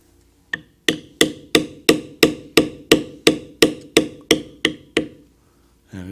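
Leather being beveled with a beveler tool struck by a mallet: a steady series of about fifteen crisp, evenly spaced taps, close and fairly loud.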